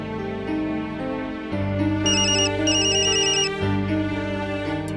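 A mobile phone ringtone plays loud and close as a bright, repeating electronic melody with layered tones, ringing continuously with no voices over it.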